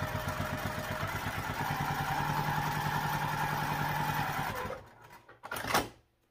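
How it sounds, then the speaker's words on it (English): A sewing machine runs a steady, rapid stitch down the sides of rectangle backpack ring tabs at a 1/8 inch seam allowance, humming close and continuous for about four and a half seconds before stopping, followed by a couple of brief clunks. "at the machine now, we're gonna sew down the sides of, this is the rectangle ring tabs"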